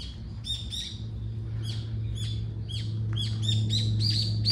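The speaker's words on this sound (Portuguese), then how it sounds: "Olha o pássaro." A bird at a Buddhist temple in Japan gives repeated sharp, high chirps in quick clusters over a steady low hum, fairly close and clear, with no speech.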